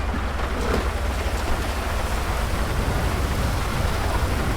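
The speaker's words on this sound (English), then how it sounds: "let me get rid of this rain too" Rain pours in a police vehicle video game, a loud, dense, unbroken rush of hiss that holds steady from start to finish without any talking.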